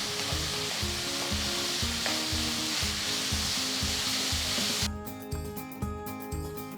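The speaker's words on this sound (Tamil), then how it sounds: "பொடிசாக நறுக்கின 3 வெங்காயம் சேர்த்து வெங்காயம் நல்லா பொன்னிறமாக ஆகிற வரைக்கும் வதக்குங்க." Finely chopped onions sauté with cumin and bay leaf in a pan for a kadai mushroom curry, giving a steady loud sizzle with a rhythmic stirring scrape through it.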